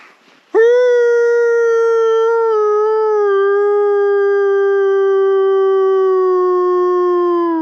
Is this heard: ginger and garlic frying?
no